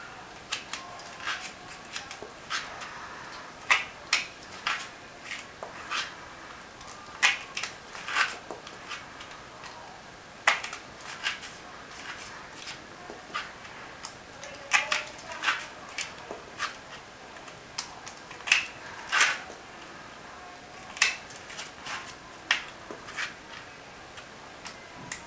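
Foam blanks for Nerf darts being cut one after another, giving a steady series of sharp, close clicks and snips that repeat irregularly across a quiet background with no talking.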